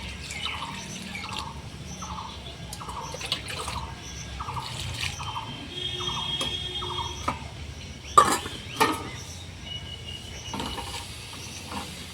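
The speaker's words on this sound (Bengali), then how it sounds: "এখন ঠান্ডা জল দিয়ে ভালোভাবে কচু আলুগুলোকে ধুয়ে দেবো।" Taro and potatoes being washed by hand in cold water, with a run of small regular splashes and drips early on, then scattered sloshing and a sharper clatter near the middle, close and moderately quiet without talk.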